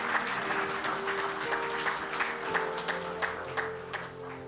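A church congregation applauds during a sermon, a steady patter of clapping over a sustained low musical drone, with occasional voices in the room.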